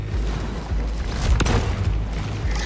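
Railgun fire in the space game Star Citizen, deep booming shots in an irregular series with low rumbling thuds and one sharper, louder blast near the middle, all over a continuous mechanical drone.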